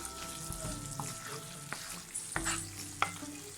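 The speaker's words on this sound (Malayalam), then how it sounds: "ഈ ഗ്രേവിയൊക്കെ നന്നായിട്ട് നമ്മുടെ പീസിലോട്ട് പിടിക്കുന്ന രീതിയിൽ ഇളക്കി കൊടുക്കുക" Kerala-style fish pickle gravy is stirred in a pan over a low sizzle, with several distinct scrapes and clinks of the spoon against the pan, close up and with no talk.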